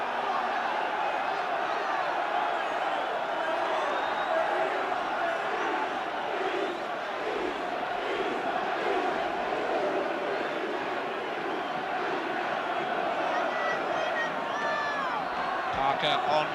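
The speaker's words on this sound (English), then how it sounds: "the crowd are loving these last few minutes because Southend are throwing everything at Liverpool now" Dense roar of a football crowd at the 1979 FA Cup tie between Southend United and Liverpool, a sustained loud wash of cheering and chanting with occasional whoops, steady throughout with speech over it.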